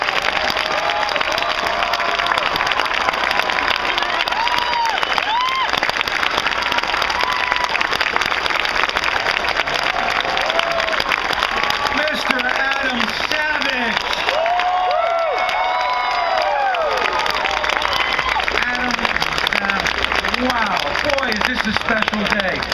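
A large crowd at a Reason Rally applauds and cheers continuously, dense clapping with whoops and shouts rising and falling, loud and sustained throughout, no single voice standing out.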